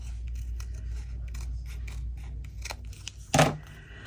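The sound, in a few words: trimming paper ephemera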